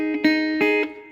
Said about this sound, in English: I put my first finger flat across both